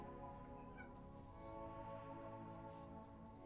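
A pet cat lets out a faint, brief meow or two, nearly buried under constant game music with sustained tones.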